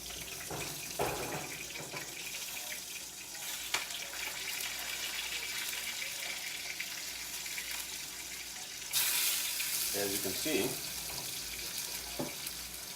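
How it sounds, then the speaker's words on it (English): A wild salmon fillet sautés in a pan with a soft, continuous sizzle, then a louder hissing surge partway through with a few clinks. "As you can see, the salmon is cooking."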